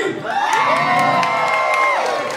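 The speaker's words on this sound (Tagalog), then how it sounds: "Pumalakpak ka may sigawan." A crowd at a live club show at Prism Superclub in Cabanatuan cheers and whoops loudly, a dense wall of shouting voices with some clapping swelling and holding for a couple of seconds.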